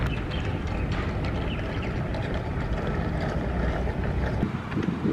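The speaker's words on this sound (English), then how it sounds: "Right motor acceleration and deceleration." Electric RC fishing bait boat with twin motors running on water, one motor speeding up and slowing down, a steady close whirring churn with water and wind noise throughout.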